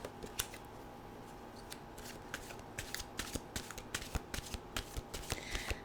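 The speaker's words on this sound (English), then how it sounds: "We'll get a mantra card here." Tarot-style mantra cards riffled and shuffled by hand, a run of crisp, quick clicking flutters building in density toward the end, close and quiet with no talk.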